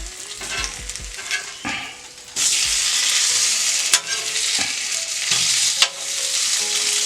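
Bread toasting on a hot steel griddle beside smoked sausage gives a loud, close sizzle that jumps up sharply partway through, with occasional scrapes and clinks of a spatula.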